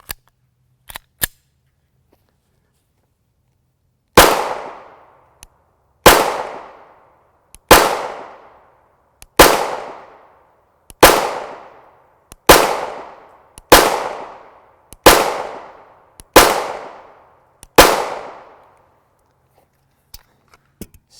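Nine sharp gunshots from a 9x19mm pistol firing 124-grain FMJ rounds in nickel-coated steel cases, loud and close, spaced about 1.5 seconds apart with decaying echoes, preceded by a few small clicks.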